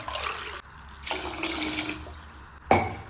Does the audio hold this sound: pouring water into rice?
yes